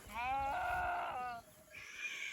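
A single drawn-out, wavering sheep bleat close by, followed by a shorter, thinner call fading in the background, among a flock of sheep and goats.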